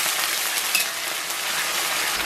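Scallion, ginger and Pixian bean paste stir-frying in hot oil, giving a dense, continuous close-up sizzle that stays steady throughout with no talk.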